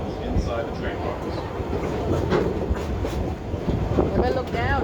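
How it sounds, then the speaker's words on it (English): An amusement park train at Busch Gardens Williamsburg rolls across a trestle, wheels clattering and rumbling steadily close by, with brief squeals and a voice talking over the ride noise. "As we cross the trestle, please keep your hands, arms, and loved ones inside the train cars."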